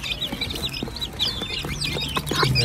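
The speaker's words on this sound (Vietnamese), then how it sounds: "Cái này là gà tre." Small bantam hens of about one kilogram cluck on a happy poultry farm in Australia, giving a steady run of close, overlapping clucks and chirpy calls over a low background hum.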